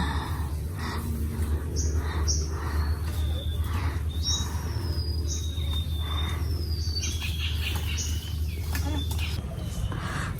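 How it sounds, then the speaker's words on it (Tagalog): Several birds chirp and whistle in short calls by a river over a steady outdoor hum, with faint insect buzzing and occasional distant voices. "Kaya puro ibon po ang maririnig mo eh."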